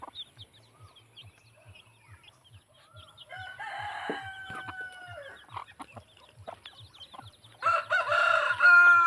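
A hen with a single chick on a farm, beside a damaged range net in overgrown grass, gives soft repeated clucks and chirps, with louder bursts of fowl calls and distant crowing building toward the end.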